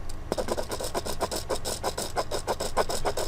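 A dried-out Pilot marker scrapes across paper in rapid, rhythmic strokes, a raspy scratching repeated steadily and close up.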